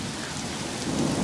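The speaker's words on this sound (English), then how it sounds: "Oh, there's a lot of thunder." A heavy Colorado thunderstorm brings steady, dense rain hammering down close by, with a low thunder rumble swelling beneath the downpour toward the end.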